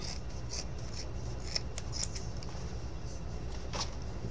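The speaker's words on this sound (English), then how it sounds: "I took a pair of jeans, and let's just go here, and I basically just cut." Scissors snip through a pair of jeans in close, quiet, rhythmic cuts with soft rasping fabric sounds between the strokes.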